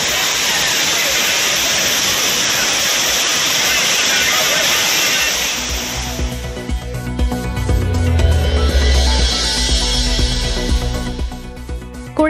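Courtallam waterfalls in flood, a heavy steady roar of falling water that gives way midway to a rougher, lower rushing sound.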